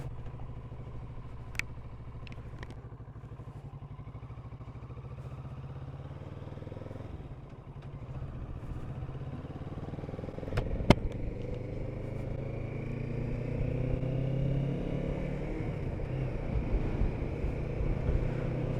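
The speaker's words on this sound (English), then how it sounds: "the battery struggled to start the bike there" Kawasaki Z650RS motorcycle with a weak battery, its engine idling steadily nearby with some wind noise, then revving and rising in pitch during the second half.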